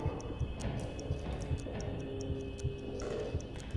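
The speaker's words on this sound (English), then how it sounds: "I can hear my stopwatch." A stopwatch in Amnesia: The Bunker ticks in a faint, regular rhythm over a low, rumbling ambience. No voices are heard.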